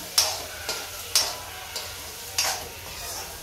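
Sliced ridge gourd frying in a home kitchen pan gives a soft, steady sizzle, broken by a few sharp clicks of stirring at irregular gaps, fairly quiet and close.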